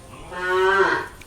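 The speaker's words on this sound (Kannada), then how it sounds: "600 ದನ ಅಷ್ಟು ಚೆನ್ನಾಗಿದೆ, ಎಷ್ಟು ಆರೋಗ್ಯವಾಗಿದೆ ನೋಡಿ" A single deep, drawn-out moo from a cow at a large shelter housing about 600 cattle, clear and fairly close, rising and fading over roughly a second with no talk.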